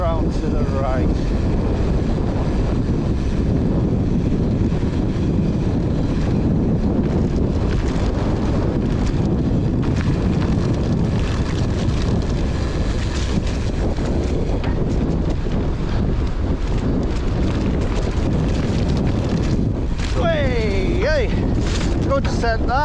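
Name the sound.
wind blowing during mountain bike descent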